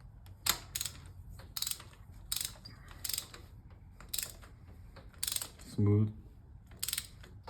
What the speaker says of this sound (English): Get your torque wrench, 14 foot-pounds.